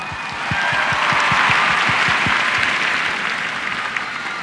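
Sustained applause from a concert audience, a dense wash of clapping that swells quickly and holds steady before slowly tapering off.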